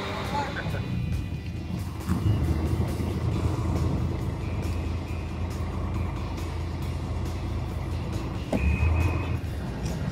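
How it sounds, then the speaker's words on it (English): Traffic at the Go Bus station in Qena, Egypt: a busy bed of idling bus and truck engines with scattered clicks and knocks, a steady reversing beep tone showing up near the end, and voices talking throughout. "we're stopping here at the Go Bus station in Qena"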